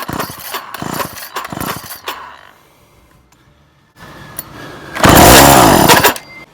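A vintage Weed Eater XR 50 two-stroke trimmer engine, choked with oil-mixed fuel, is pull-started several times with short rasping bursts, then briefly fires and buzzes loudly for about a second before dying.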